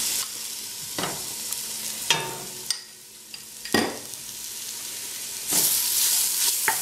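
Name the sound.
spice mixture frying in a pan for lamb curry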